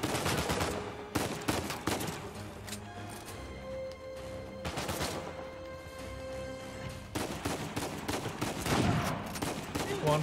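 Rapid gunfire from Uncharted 4: A Thief's End, with bursts of automatic shots and single heavy reports coming in uneven clusters across the clip, loud and close, with booming impacts between volleys.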